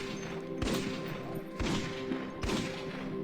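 Pistol shots in Cataclysm: Dark Days Ahead ring out as three sharp reports, evenly spaced about a second apart, fairly quiet against a low background hum.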